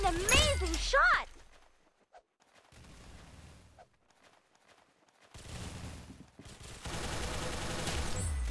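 Gunfire in the Roblox shooter Arsenal on a sand town map, with a burst of loud close shots at the start and further rattling game combat and effects later, separated by quieter stretches.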